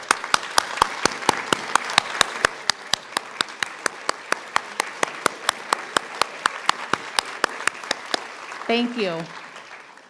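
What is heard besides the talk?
audience applause at a nurse pinning ceremony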